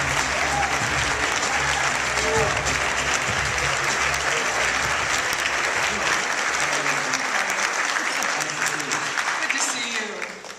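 An audience at a NAMM event applauds as Moby comes on stage, a dense, steady wash of clapping that holds for about ten seconds before tapering off at the end.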